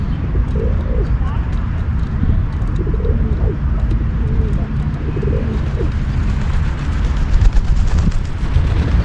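Pigeons coo repeatedly in soft, rolling phrases against a steady, loud background rumble, with the calls recurring throughout at moderate distance.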